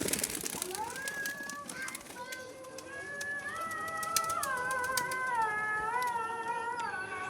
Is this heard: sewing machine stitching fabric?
no